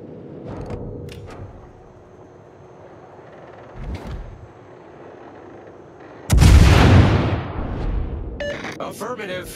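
Naval gunfire erupts in World of Warships, with the Tulsa in battle. A single heavy blast booms and rumbles away after a couple of fainter distant shots, with voices heard over the battle noise.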